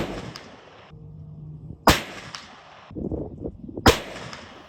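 A muzzleloader fires a Power Belt ELR 250-grain bullet over a three-pellet powder charge, twice. Each shot is a loud, sharp crack with a short echoing tail, about two seconds apart, outdoors with no speech.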